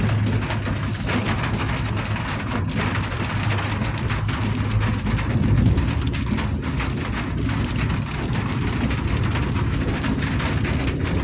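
Steady rain hisses without a break, a dense wash of drops that stays loud and even throughout, near Chandanwari in Kashmir.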